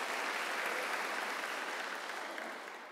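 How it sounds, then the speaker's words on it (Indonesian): Applause from a church congregation during a service, steady dense clapping that fills the room and fades slightly toward the end, with no talking over it. "Tepuk tangan bagi Allah kita."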